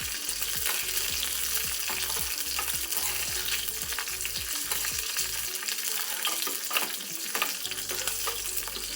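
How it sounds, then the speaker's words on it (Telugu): Peanuts fry in a hot pan with a steady, dense sizzle, broken by regular scraping clicks as they are stirred, all close and fairly loud with no talking. "పల్లీలు మంచిగా వేగాక"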